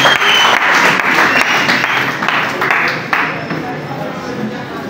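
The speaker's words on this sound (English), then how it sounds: "Please, a round of applause for my chairman." A round of applause breaks out at a music album launch, a roomful of people clapping steadily and fairly loudly, slowly thinning over five seconds.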